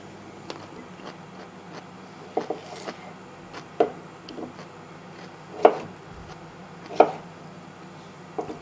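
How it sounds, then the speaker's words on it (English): A knife cuts the ends off a cucumber on a board, a few sparse, crisp chops and taps at irregular intervals over a quiet kitchen background hum. "Next up, I'll do some cucumber, cut off the ends."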